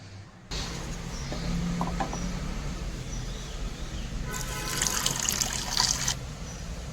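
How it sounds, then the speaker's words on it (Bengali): Uncooked rice is poured into a pot in a home kitchen, making a bright, steady hissing rush for about two seconds over a constant background hum. "তো চালটা ঢেলে দিই।"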